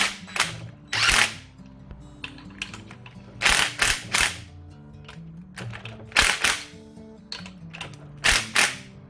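A ratchet tightens a bolt on an Opel CIH engine short block, giving bursts of quick, loud clicking repeated in several separate rounds with short pauses between them.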